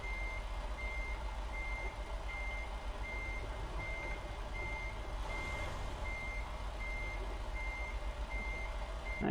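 A truck in American Truck Simulator gives off a steady, evenly spaced string of high reversing beeps over a constant low engine drone, clear and loud with no talking.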